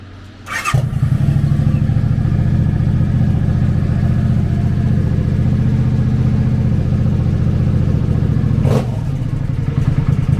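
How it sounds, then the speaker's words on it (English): A 2006 Suzuki C50 Boulevard 800 fitted with a trike kit, its 805cc V-twin running steadily and loudly close by, a deep continuous idle throb that starts in after a brief burst near the beginning. "Powered by an 805cc V-twin engine, the Boulevard puts 45 horsepower and 47 foot-pounds of torque through a 5-speed transmission."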